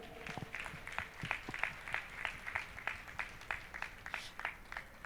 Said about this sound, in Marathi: या दोघांसाठी जोरात टाळ्या वाजवूया आपण.